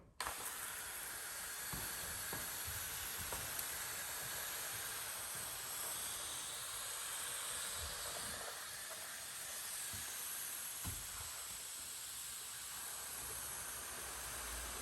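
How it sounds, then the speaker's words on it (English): Pump sprayer misting rinseless wash solution onto a car, a continuous soft hiss broken by a few faint clicks and knocks, heard alone with no talking. "my pump sprayer, rinseless wash solution in it, pumped up, ready to go"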